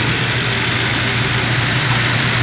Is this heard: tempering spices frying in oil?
no